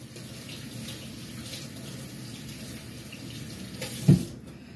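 A kitchen tap runs in a steady, fairly quiet stream while hands are washed during catfish cooking. A brief thud sounds near the end.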